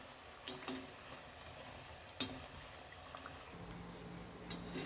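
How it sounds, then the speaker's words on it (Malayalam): Chips frying in hot oil in a home kitchen: a faint, steady sizzle and bubble with a few soft clicks and scrapes of stirring, no talking. "ചിപ്സ് നന്നായിട്ട് ഫ്രൈ ആയിട്ടുണ്ട്"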